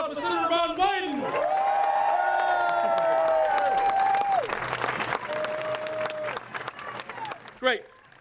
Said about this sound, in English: Everyone, one more big round of applause for Senator Ron Wyden.